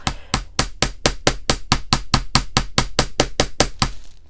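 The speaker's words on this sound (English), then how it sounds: "all you need is the flat surface of your ball peen hammer" Ball peen hammer striking wire against a flat surface, a steady run of about eighteen sharp, evenly spaced metallic taps, close and loud, with no voices.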